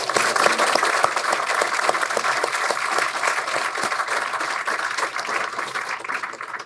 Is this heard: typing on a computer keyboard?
no